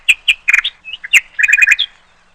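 Bird in a cartoon story, chirping in a quick series of bright, close tweets, some clustered in rapid trills, alone without speech.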